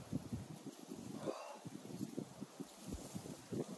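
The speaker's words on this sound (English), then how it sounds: "A little windy." Steady wind rumbles and buffets the microphone outdoors, gusting unevenly throughout with no clear voices.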